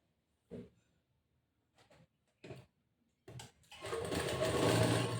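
Domestic sewing machine stitching a folded seam on a blouse, a few short isolated bursts of needle running followed by a longer steady whirring run that builds toward the end, close and fairly loud.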